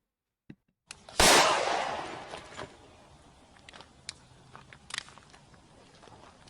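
Gunshot from a video played on a screen, one loud sharp blast followed by a decaying roomy tail, then scattered softer knocks and clatter.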